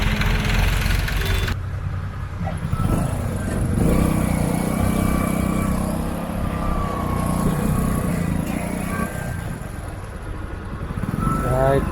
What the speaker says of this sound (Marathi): पाण्याचा टँकर चालला